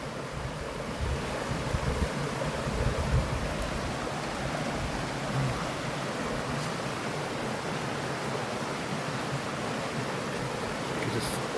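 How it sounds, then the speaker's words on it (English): Steady, broad rushing of flowing mountain water on Mount Baldy fills the whole stretch as a constant, even wash with no voices. "Just watch the water flow for a half hour."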